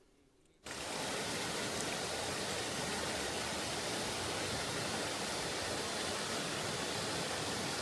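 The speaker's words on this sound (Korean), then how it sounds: "옛날에 용이 살았다는 용소 폭포와 용소입니다." After a brief quiet moment, a loud steady roar of rushing water sets in and continues unbroken from the nearby Yongso waterfall on Jirisan.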